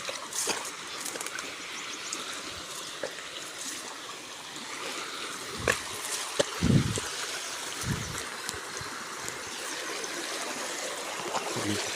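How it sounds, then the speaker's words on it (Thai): Waterfall and flowing water in a rural Lao forest during bamboo-shoot foraging, a continuous moderate rushing hiss with a few scattered close knocks and rustles. "น้ำตกน้ำไหลบรรยากาศธรรมชาติ"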